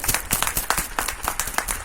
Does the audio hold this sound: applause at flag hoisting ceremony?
yes